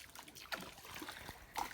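Water from a bucket trickles and splashes into a channel dug in sand, making faint, irregular dribbling with a few sharper splatters over quiet background.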